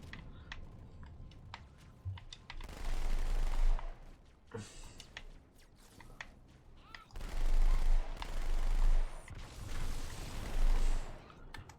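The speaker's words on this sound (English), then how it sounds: "You fire one bullet hose until it runs out, and then you fire the other one." Dual-wielded automatic guns in Halo 2 rattle off in two long rapid bursts separated by a quieter lull with scattered clicks and shots, loud and close, with no talk.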